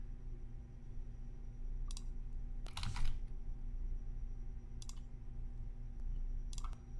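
Quick bursts of keystrokes clatter on a computer keyboard while form details are entered, arriving in short separated clusters over a steady low background hum.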